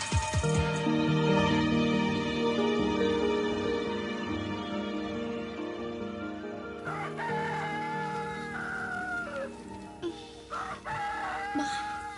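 Roosters crow repeatedly, loud long calls that overlap one another, with some clucking between the crows.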